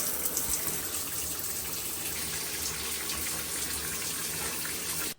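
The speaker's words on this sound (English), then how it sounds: "I'm going in the shower now" A shower running in a home bathroom at night, a steady broadband hiss of spraying water, close and constant, cutting off abruptly at the end.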